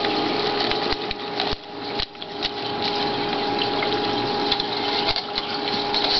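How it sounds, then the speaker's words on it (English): Brine shrimp hatchery water with a packet of salty egg mix being stirred, giving a steady close swishing, bubbling wash of water with a constant pump-like hum underneath and a few soft knocks. "Guess I'm just gonna give it a bit of a stir."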